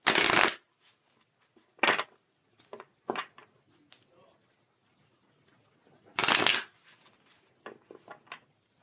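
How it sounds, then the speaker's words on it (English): Tarot cards are shuffled close by in short bursts of riffling and crisp flicks separated by quiet gaps, with two heavier shuffles near the start and middle. "Let's shuffle our cards here."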